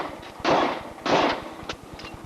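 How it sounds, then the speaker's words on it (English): Two sharp, loud gunshots from a police officer ring out about half a second apart, each followed by a decaying echo, then fainter pops over a steady rhythmic background thumping. "All units, shots fired"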